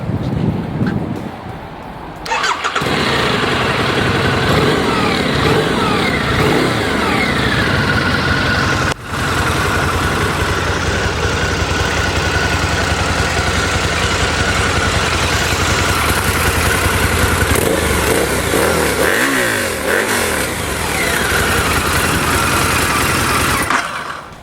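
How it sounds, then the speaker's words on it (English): A Harley-Davidson VRSCDX Night Rod Special in Ember Red Sunglow idles and revs, its loud nearby engine rumbling through rising and falling throttle blips with a brief cut near the middle and wind noise over the top. "Harley-Davidson's VRSCDX Night Rod Special in Ember Red Sunglow"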